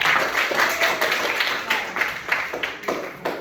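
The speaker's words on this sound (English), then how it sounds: "let's give him a round of applause" A PE class gives a student a round of applause, with moderate, uneven clapping from a small group that fades after a few seconds while voices come and go in the background.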